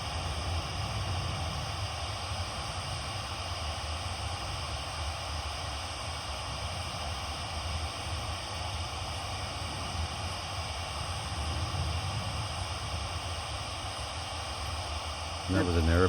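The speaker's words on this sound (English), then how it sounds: "that was an aeroplane that just went overhead" An airplane passes overhead near an old jail cemetery at night, a steady broad roar that holds evenly through the whole stretch, with no voices.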